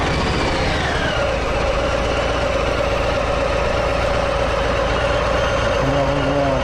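A 2021 Harley-Davidson Street Bob motorcycle engine running at a loud, steady idle, with a continuous deep rumble and a constant low drone throughout.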